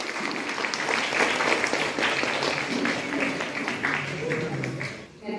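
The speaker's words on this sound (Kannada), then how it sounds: "ಜೋರಾದ ಚಪ್ಪಾಳೆ ಬರಲಿ." Loud, sustained applause from an audience at a Kannada community event, a calendar release ceremony in Bangalore, steady dense clapping filling the whole stretch with faint voices mixed in.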